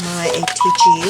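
A phone's short electronic notification tone sounds briefly midway through, a thin steady beep riding under a person's close-up speech.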